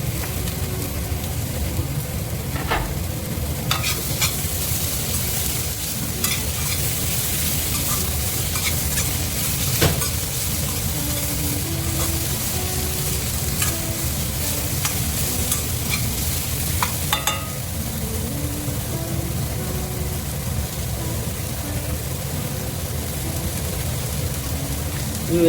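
A pan of pigeon pea masala base fries with a steady, close hiss and crackle, the sizzle continuing without a break, and a scatter of sharper pops and spatula knocks on top.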